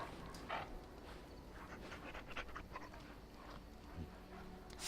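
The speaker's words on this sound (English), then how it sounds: "Pet dog." A dog in Dragon Age: Origins pants steadily while being petted, soft rhythmic breathing with faint whimpers, quiet and close.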